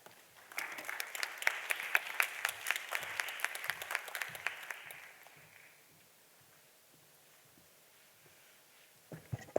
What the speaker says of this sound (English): Please, another round of applause for Secretary Vanda Piñato.